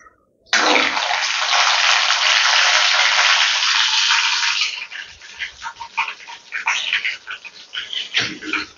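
Cumin and five-spice seeds hit hot oil for a kidney-bean curry with a sudden loud hiss that holds steady for several seconds, then breaks into irregular crackling pops as the seeds fry.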